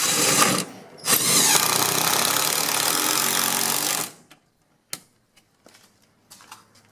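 A power drill drives screws into a metal wall bracket for an electric fireplace, whirring loudly for a few seconds. Faint taps and small knocks follow in near quiet.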